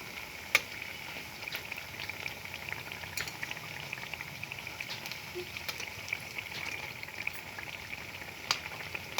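Eggplant fritters (begun chop) frying in a pan of hot oil give a steady bubbling sizzle throughout, with a few sharp pops and faint clinks standing out from the continuous hiss.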